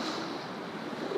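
Big, rolly open-ocean swell around a sailboat far offshore, a steady broad wash of surf and water rush with wind buffeting the microphone, continuous and loud throughout with no talking.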